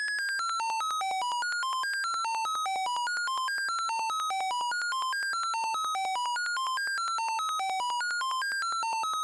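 Benjolin synthesizer patch locked into a repeating looped pattern: bright, steady electronic tones stepping through a descending and rising melodic sequence, cycling evenly and continuously with no pauses or voices.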